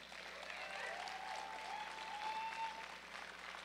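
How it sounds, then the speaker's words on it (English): Steady applause from an audience honoring powerlifters at a national powerlifting awards ceremony, continuous and moderately distant, filling the room evenly for several seconds with a faint tonal whine running underneath. "Please give them a round of applause"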